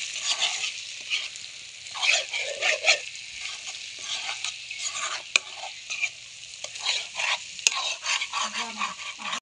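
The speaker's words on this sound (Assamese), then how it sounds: "খিনি মাংসৰ লগত ধুনীয়াকৈ ফ্ৰাই কৰা হ'ল" Chicken sizzles and spatters with black sesame seeds in a pan, stirred with occasional scrapes and clinks, with the frying fairly close and steady throughout.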